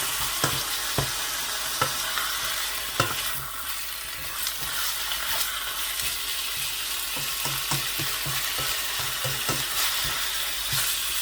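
Minced meat and garlic sizzle in a hot pan with steady frying crackle, punctuated by occasional sharp scrapes and taps of a stirring spoon.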